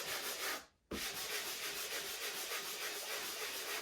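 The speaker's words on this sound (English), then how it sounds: "you're going to take your block sander. You're going to give it a final sand." A block sander rubs steadily across dried drywall compound on a patched small hole, a close, continuous gritty scraping with one brief pause before the strokes resume.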